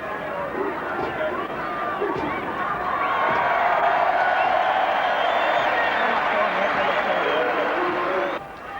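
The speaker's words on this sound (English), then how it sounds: "wait for the crowd to react at the end of this" A stadium crowd at a 1982 rugby league match between New Zealand's Kiwis and Queensland swells with broad cheering and chatter after a haka, heard as a steady distant roar that builds and then drops off near the end, with commentary voices over it.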